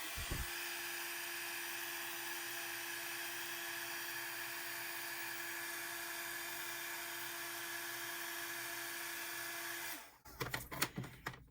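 An electric heat tool melting colored embossing powder on a card, blowing a steady, loud whirring drone for about ten seconds before it cuts off, followed by a few brief clicks and handling noises.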